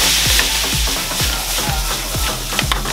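Rogan josh cooking in a pan in a restaurant kitchen, loud constant sizzling and frying hiss with regular stirring knocks of a ladle against the pan, close up.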